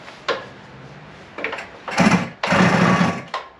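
A Suzuki two-stroke engine, its carburettor freshly cleaned and the choke set, is cranked close by, giving a few short sputtering bursts and then two longer ragged runs before cutting out again.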